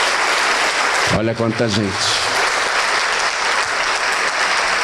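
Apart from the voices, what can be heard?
applause in church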